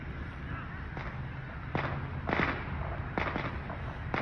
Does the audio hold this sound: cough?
no